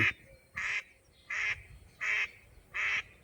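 Water birds on a farm pond give five evenly spaced, honking quack-like calls, each about a quarter second long, heard moderately close with no talk.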